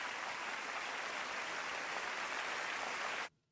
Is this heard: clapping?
yes